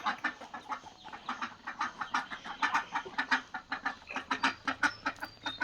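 Busy village farmyard poultry chatter in the morning: clucking chickens and quacking ducks calling in quick, overlapping bursts while being let out and fed, close by and steady throughout.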